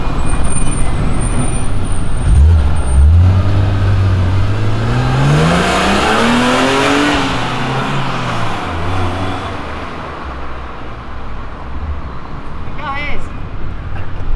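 Cars, Corvettes among them, rev and drive past outdoors: one engine climbs in a loud rising rev sweep before the noise eases and fades, with voices faintly in the background.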